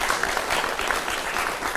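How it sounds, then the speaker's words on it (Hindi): Audience applause welcoming a guest at a televised discussion event, a brief burst of dense, steady clapping from a crowd, fairly close, with no talk over it. "तालियों के साथ स्वागत कीजिए डॉक्टर ख्वाजा इफ्तिखार अहमद साहब का"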